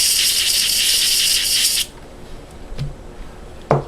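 Short hissing burst of spray aimed at the laser lens of a PS2 Slim, a steady blast lasting under two seconds, followed by a few small clicks and taps.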